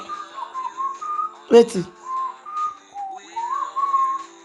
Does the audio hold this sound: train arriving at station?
no